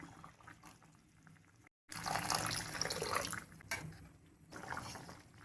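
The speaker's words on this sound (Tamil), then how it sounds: "கெட்டியான தேங்காய் பால் குழம்புக்கு சேர்த்துக்கலாம்" Thick coconut milk poured into a dried seela fish curry, a steady liquid pouring and splashing sound after a brief silent gap, loud and continuous for several seconds with no talking.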